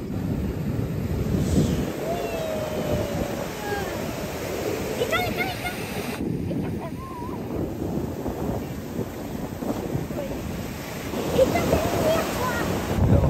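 Ocean waves wash onto a beach where sea turtles are hatching, a steady surf roar with wind buffeting the microphone and faint voices talking over it throughout.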